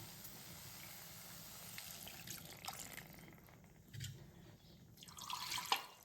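Water pours into a pot of Tamil curry set to boil: a soft, steady splashing hiss, close and quiet, that swells near the end with a few drips and gurgles.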